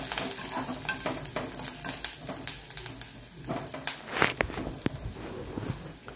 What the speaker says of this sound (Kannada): ಸೊ ಅದನ್ನು ಈರುಳ್ಳಿ ಬೆಳ್ಳುಳ್ಳಿ ಜೊತೆ ಫ್ರೈ ಮಾಡ್ಕೊಳ್ಳೋಣ